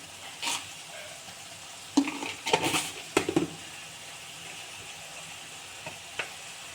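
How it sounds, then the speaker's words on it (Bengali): Ginger garlic paste sautés in a pan for a Bengali-style home-made chicken dish, a faint steady sizzle broken by a few brief clinks and scrapes of the spoon against the pan. "ভালো করে এই আদা রসুনের পেস্টটাকে আমি কষিয়ে নেব।"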